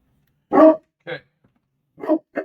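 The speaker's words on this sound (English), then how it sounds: "stop barking! Knock it off!" A dog barks indoors in a quiet room, giving four short, separate barks: the first loud, then a softer one, and after a pause two more close together.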